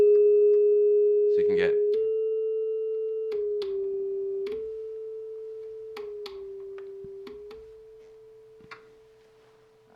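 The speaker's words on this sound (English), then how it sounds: "It has a tuner, which sounds like this." A Roland Micro Cube amp's built-in tuner gives off a steady pure reference tone that shifts slightly in pitch a few times. It is broken by brief guitar plucks and a voice, and fades gradually.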